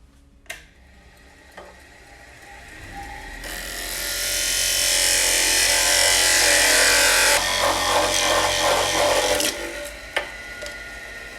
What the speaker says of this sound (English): I'm going to use a thin parting tool and cut through the waste block